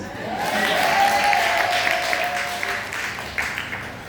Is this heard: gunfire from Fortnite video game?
no